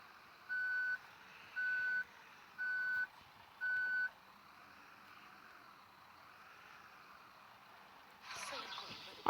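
Four evenly spaced reversing beeps from a bus backing into a parking spot in Otobüs Simulator Ultimate, clear over quiet engine hum, followed by a brief louder hiss near the end.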